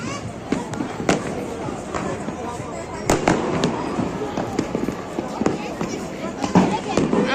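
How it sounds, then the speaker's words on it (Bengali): Fireworks and firecrackers burst all around at a New Year celebration, a steady run of sharp cracks and pops near and far, with voices talking over the bangs. "এই যে বাজি আর বোম ফোটানো হচ্ছে।"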